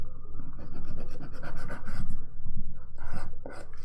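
A nail file sharpens the shape of a dip powder manicure, quick rhythmic back-and-forth rasping strokes, close and steady, with brief pauses between bursts and no talking.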